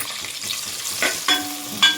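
Thinly sliced onions and slit green chillies added to hot oil with spices for a country-chicken pulao, a soft sizzle with three sharp clinks and scrapes of a metal spoon against the pan.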